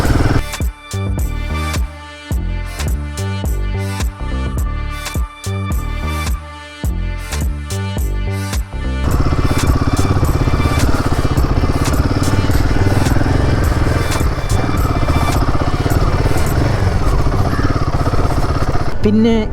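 A Royal Enfield Himalayan 450 motorcycle is ridden toward a highway, its engine at first pulsing in choppy bursts, then settling into a loud, continuous drone with wind and road noise close by.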